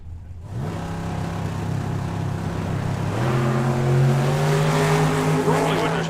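A drag racing car launches down the track at the Hangover Nationals, its engine a loud, harmonic roar that rises through one gear change about halfway and keeps screaming in the distance, with crowd noise underneath.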